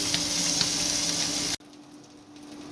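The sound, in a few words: river puti fish frying in pan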